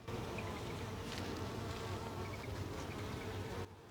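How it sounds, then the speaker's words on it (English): Bees buzz busily around bee balm flowers in a sunny late-summer flower garden, making a dense, continuous drone close by that holds steady with no voices. "You can hear all the bees in there."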